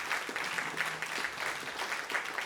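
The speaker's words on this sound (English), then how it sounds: "Can we just get a wonderful big round of applause for our panelists before we start?" Round of audience applause for panelists at a conference discussion, a continuous, moderately distant wash of many people clapping at once.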